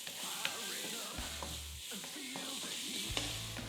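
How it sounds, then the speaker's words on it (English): Smoky veggie rice with chilli being stirred in a pan, a steady close sizzle broken by repeated scraping strokes of the utensil. "Give that a stir around."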